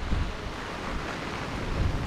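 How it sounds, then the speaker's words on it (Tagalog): Dense, roaring wash of heavy rain with strong wind buffeting the microphone, steady and close throughout with no voices. "sobrang lakas nga po ng ulan. Kasi mahangin."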